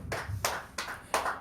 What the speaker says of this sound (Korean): 우리 하나님께 영광의 박수를 올리겠습니다.